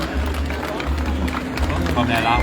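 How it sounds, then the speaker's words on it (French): An audience at a food and beer festival contest in Saint-Hyacinthe claps and cheers, a dense wash of hands and crowd babble with voices mixed in, steady and fairly loud throughout. "On l'applaudit fort"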